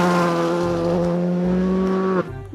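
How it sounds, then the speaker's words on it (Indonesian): A toy racing car sound effect: a loud, steady electronic engine whine with a bright buzzy tone that holds for about two seconds, then cuts off abruptly into a softer tail, close-up with no voices. "ternyata mobil balap"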